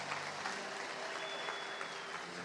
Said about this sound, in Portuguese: Se tem um crente aí, dê uma salva de palmas a Jesus.